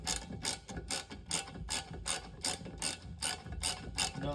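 A ratchet with a 6mm Allen key extension tightens the rear differential cover bolts on a 2010-2018 Ram 2500/3500/4500/5500 truck, producing about ten short, crisp bursts of clicking in a steady rhythm, close and fairly quiet.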